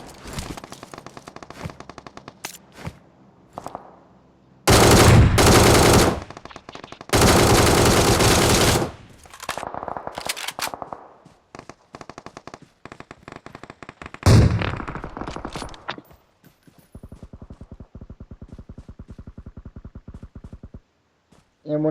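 Loud bursts of automatic machine gun fire in the video game PUBG Mobile, with long sustained volleys and shorter rapid bursts separated by brief gaps.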